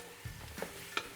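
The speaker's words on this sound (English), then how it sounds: "I'm going to break this meat up while it cooks" Hamburger meat for brisket chili sizzles faintly in a pot while a utensil breaks it up, with a few soft scraping stirs over a low frying hiss.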